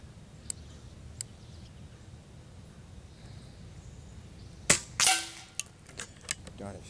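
An Air Venturi Avenger PCP air rifle fires one sharp, fairly quiet pop followed by a few small clicks, after faint ticks earlier, in a calm setting with no talking.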